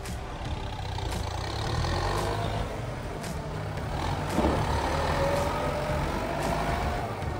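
A used 2017 Kubota M9540 4WD tractor engine runs steadily at close range, giving a continuous low diesel rumble with a faint ticking overlay and no speech.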